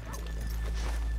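Horses' hooves clopping in Red Dead Redemption 2, a soft steady low thudding under a constant hum, with no talk.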